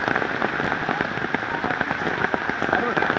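Heavy downpour drums steadily and loudly on surfaces nearby, a dense continuous patter with no break throughout.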